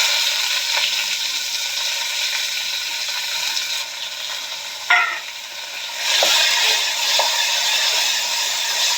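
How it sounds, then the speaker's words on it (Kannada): Chopped onions fry with chana dal in oil for vangibath, a bright close sizzle that runs steadily, broken by a single stirring scrape and a few light clicks of a spoon against the pan. "ಈರುಳ್ಳಿ ಫ್ರೈ ಆಗುತ್ತೆ"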